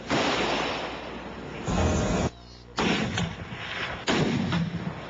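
Three loud, booming shots from a Barrett sniper rifle ring out in turn, each a sharp blast trailing into a rumbling echo, with a brief quiet gap between.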